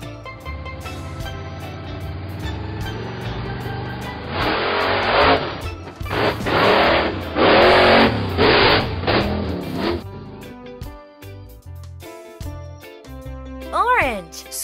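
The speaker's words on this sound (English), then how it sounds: "Monster truck" A monster truck engine revs loudly in several surging bursts over a steady background soundtrack, with a brief whooshing sweep near the end.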